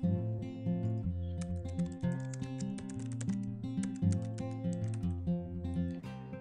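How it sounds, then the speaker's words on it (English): An email address is tapped out on a computer keyboard as rapid, irregular key clicks. The typing is close and fairly quiet, with no voice over it. "You can type any email address here"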